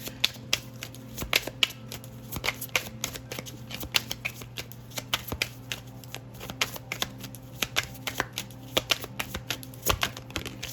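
Tarot cards being shuffled for a pick-a-card reading: a steady run of quick crisp riffling clicks and flutters, close and fairly loud, with a constant low hum underneath and no talking.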